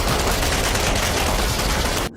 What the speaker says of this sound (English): the monsters spread their jaws and clash them together to produce a deafening noise